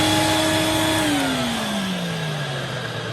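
A vintage Electrolux 302 vacuum cleaner runs with a loud steady whine and hiss, its motor pitch slowly sagging as it works, alone with no talking.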